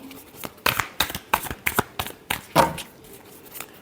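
Tarot cards shuffled by hand in a deck, a run of quick riffling and slapping bursts, close and fairly loud, with no voice over them.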